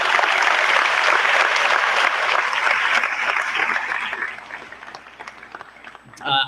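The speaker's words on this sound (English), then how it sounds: "I want you to all give a round of applause to your parents right now who love you very much." Parents are applauded by a large audience at a senior convocation for Glen Allen High School: dense, sustained clapping fills the hall, fading after about four seconds into scattered claps before a brief louder burst at the end.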